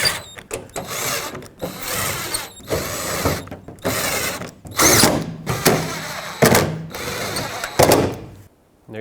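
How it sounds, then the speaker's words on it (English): Power driver tightening eight bolts on a 2008-2010 Ford F-250 tailgate molding with a T30 bit, heard as a string of short whirring and ratcheting bursts separated by brief pauses, close by with no talking. "Now use your T30, tighten up all 8 bolts that hold this piece on."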